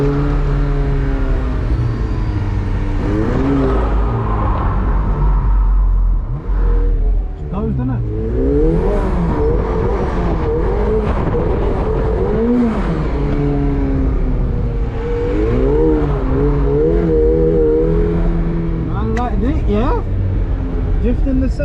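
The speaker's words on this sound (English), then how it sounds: "drifting the 720" McLaren 720S sports car drifting, its engine revving up and down in repeated loud sweeps while tires work the surface, with a person talking over the engine throughout.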